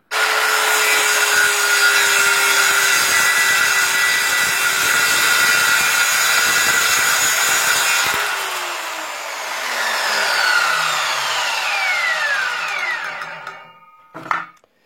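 A portable circular saw rips a long cut through wood along a homemade guide, its steady loud whine holding for about eight seconds before the motor winds down and the tool stops.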